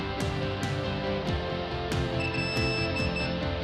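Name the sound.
DJI Phantom 4 remote controller beeping during linking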